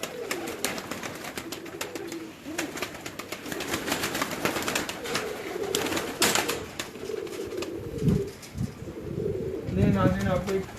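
Pigeons at a pigeon fancier's loft cooing in soft repeated low calls, with a few chirps and brief wing flutters, nearby and moderately loud over a busy background.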